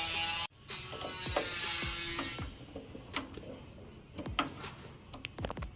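A ratchet tightens a loose part on an unboxed CA7 Trident, sounding in quick repeated clicks after a longer sustained hiss, up close with sharp individual ticks toward the end.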